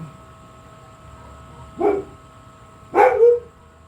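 A dog gives two separate barks, the second louder and drawn out slightly, with quiet room noise in between and no talking.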